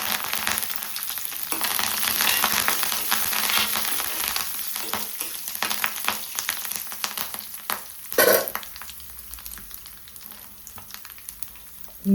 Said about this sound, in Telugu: తాలింపు గింజలు వేసేద్దాం. ఎండుమిరపకాయలు 2, కొంచెం కరివేపాకు,